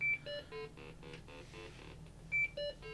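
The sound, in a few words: Columbia Data Products VP Portable beeping during RAM test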